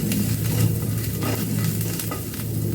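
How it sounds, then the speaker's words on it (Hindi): Ginger frying in a hot pan gives a steady, close sizzle with faint stirring scrapes running throughout, and no voices. "अब डाल दूंगी मैं इसमें अदरक, बस सिर्फ रॉ स्मेल जाने तक इसको पकाना है।"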